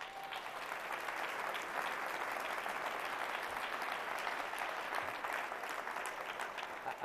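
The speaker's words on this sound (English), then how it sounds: "You can applaud now." An audience at the 2016 Oakland County State of the County Address breaks into steady applause, a continuous even wash of many hands clapping that holds throughout, heard from a distance in a large hall.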